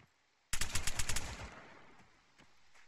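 Machine gun fire in the video game Arma 3: a sudden burst of about eight rapid, loud shots that ends abruptly, then rings out and echoes into a fading tail with a couple of faint distant pops.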